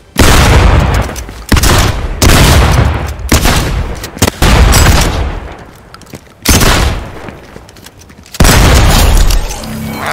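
Loud, close gunfire in the video game Fortnite, with heavy booming bursts and rapid volleys in several long stretches separated by brief pauses.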